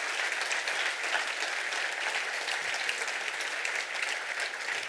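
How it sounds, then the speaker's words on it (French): Sustained audience applause fills a closing keynote at a retail conference, a dense, steady wash of many hands clapping at even loudness throughout, with no voices rising above it. "Je pense qu'on peut vraiment applaudir Eric"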